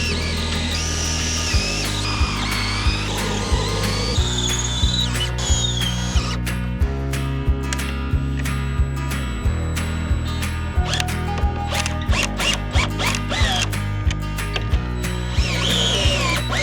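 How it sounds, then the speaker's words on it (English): A power tool drives and tightens bolts on a DIY geodesic dome greenhouse frame, with repeated loud whirring bursts and ratcheting clicks in close, steady succession. "So I'm just going to put these through, tighten them up nice and tight"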